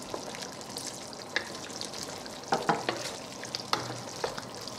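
Palm sugar and fish sauce go into a sizzling Thai chicken curry, with steady frying hiss broken by a few stirring clinks and spoon knocks, no voices.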